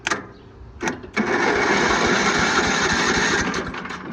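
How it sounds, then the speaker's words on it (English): A small riding mower engine cranks over: a few short starter bursts, then a sustained rhythmic chugging churn from a starter motor, close and loud, with no talking. "All right, it turns over good."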